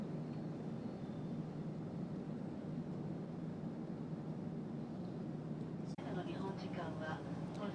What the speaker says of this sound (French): nous prenons place à bord du Boeing 747-400 de Air France à destination de Tokyo